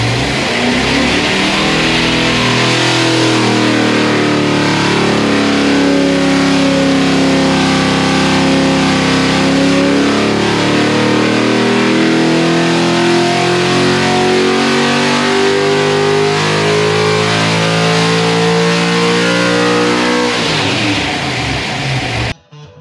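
Truck engine with a tunnel ram intake and velocity stacks revving, a loud, close, sustained mechanical roar whose pitch rises and holds steady before cutting off abruptly at the end.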